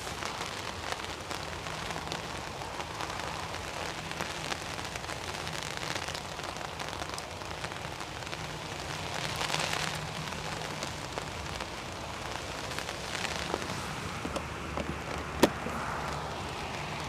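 Rain falls steadily on surfaces outdoors beside an airport runway, a constant soft patter and hiss with scattered louder drops and one sharp tap near the end.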